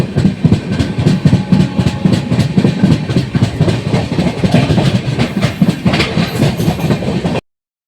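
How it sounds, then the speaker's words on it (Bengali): The Visakha Express, running Bhubaneswar to Secunderabad, passes on the adjacent line at Nirakarpur station. It is heard from a nearby train as a loud, close, rhythmic clickety-clack of wheels over rail joints that continues steadily for several seconds before stopping abruptly. "পাশের লাইনে যাচ্ছে বিশাখা এক্সপ্রেস ভুবনেশ্বর টু সেকেন্দ্রাবাদ।"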